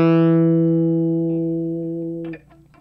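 Electric guitar repeating a line, a single sustained clean note ringing and slowly decaying for about two seconds before a short burst of string noise cuts it off.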